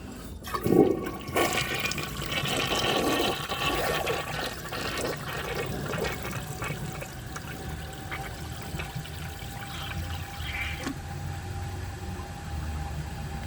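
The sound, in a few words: 1981 Briggs Conserver concealed jet toilet full flush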